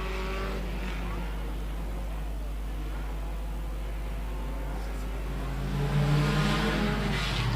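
Stock cars racing around a circuit at a Border Stockcars regional meeting, a distant steady engine drone with a low rumble, swelling louder as cars come closer near the end.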